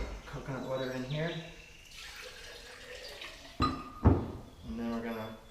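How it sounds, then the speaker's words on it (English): Fresh coconut water poured into a pitcher, with splashing liquid and light clinks of the container, heard close and in between stretches of a person talking. "let me pour this coconut water in here"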